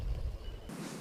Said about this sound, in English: you can hear the fast water behind me